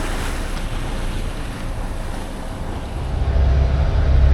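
Ocean waves wash and surge continuously under heavy wind rumble at sea in the Gulf Stream off Cape Fear, growing louder toward the end.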